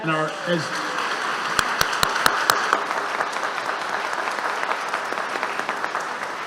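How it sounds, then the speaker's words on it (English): A church congregation gives a round of applause at the end of a service, sharp individual claps ringing out near the start before the clapping settles into a steady wash and fades slightly. "Let's give them a round of applause."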